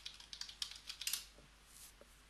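Quiet, close keystrokes on a computer keyboard come in a short burst of light taps, then stop and leave near silence.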